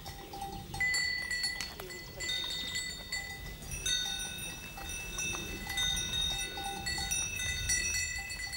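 A herd of goats trots through a pasture with bells clanking and ringing continuously in scattered, overlapping strikes, a soft rustle of hooves and grass beneath.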